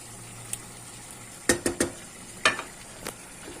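A spoon scraping and clinking in a cooking pot as a heaped spoonful of flour is stirred in for a chicken dish, a few sharp taps clustered in the middle over a quiet background.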